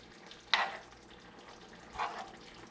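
Massaman curry paste being broken up and stirred in a hot pan, giving a soft steady sizzle with two brief louder scraping stirs near and distinct, no talking.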